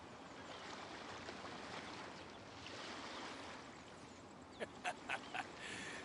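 Ocean waves in the game Genshin Impact, a soft continuous surf wash with gentle swells, faint and distant, with a few brief clicks near the end.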